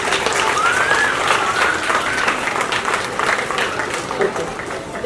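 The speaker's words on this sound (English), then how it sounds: "Let's clap for ourselves." An audience at a storytelling event claps together in steady, sustained applause, with a few voices calling out over it.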